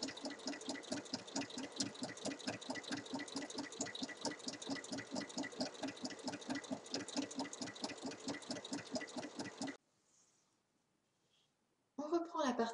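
A sewing machine stitches a 1 cm fabric hem for a cushion cover in a fast, steady run of close mechanical clicks, then stops abruptly, leaving near silence before a brief noisy restart.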